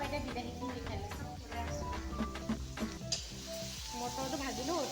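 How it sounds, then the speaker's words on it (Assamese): Peas and tomatoes fry in a hostel pan, giving a steady dense sizzle with occasional stirring scrapes and light clinks, close and continuous. "মটৰটো ভাজিলোঁ, তাৰপৰা এতিয়া ইয়াতে বিলাহীটো দি দিছোঁ"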